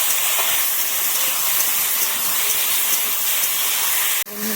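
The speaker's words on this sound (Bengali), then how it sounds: "চাটনির জন্য আমি ভালো করে ভেজে নেবো" Chutney with turmeric frying in a pan, a steady loud sizzling hiss throughout that cuts off abruptly near the end.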